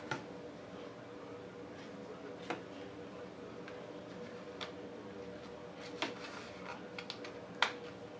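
Sparse, faint key clicks come from a Nexxtech Bluetooth keyboard. The isolated taps are spaced irregularly over a quiet room hum.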